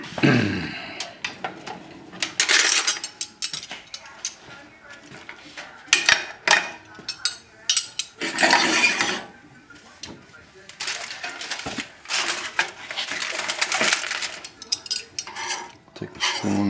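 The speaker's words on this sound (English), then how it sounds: "take a spoon and just put a drop more on the very top, like so." A spoon scrapes and taps as stuffing is spooned onto escargot-stuffed mushrooms, with intermittent clinks and soft scraping bursts close by, and a voice talking in between.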